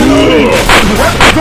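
Two loud bursts of gunfire in the video game Left 4 Dead 2, a short sharp blast and then another about half a second later, over a droning voice-like game sound.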